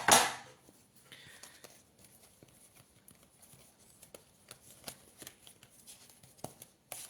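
A deck of oracle cards is shuffled by hand, giving repeated soft riffling and slapping bursts at an uneven rhythm, close up and fairly quiet, with no speech over it.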